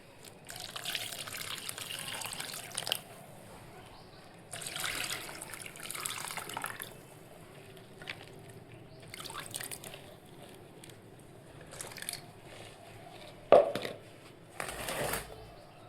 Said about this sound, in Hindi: अब मैंने इसमें पानी भी दे दिया है फ्रेंड्स।